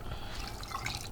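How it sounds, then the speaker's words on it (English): Water is poured into a pot of lasagna, a brief, faint trickling splash with small drip-like patters and no talking. "you want to add in a bit of water"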